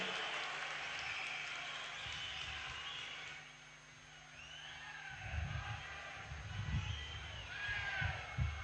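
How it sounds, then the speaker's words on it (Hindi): A rally crowd gathered for Prime Minister Narendra Modi in Navsari, Gujarat applauds, and the clapping swells and thickens toward the end behind a booming public-address ambience. "आइए जोरदार तालियों के साथ आमंत्रित करते हैं"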